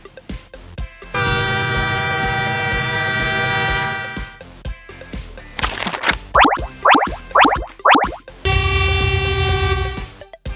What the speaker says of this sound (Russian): Отлично, это газотурбовоз.